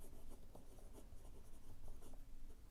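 A Lamy All Star Petrol fountain pen with a broad nib scratches steadily across paper, a close, continuous soft rasp of wet ink strokes with small rhythmic variations and no voices.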